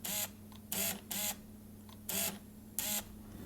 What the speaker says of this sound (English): So in terms of autofocus noise,